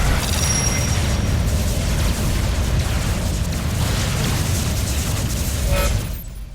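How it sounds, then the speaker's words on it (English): Constant heavy booms and rapid gunfire from a battle in the PC strategy game Supreme Commander 2, layered explosions rumbling loudly without pause before cutting off abruptly at the end. "the large-scale battles with explosions and gunfire all over are all the more exciting"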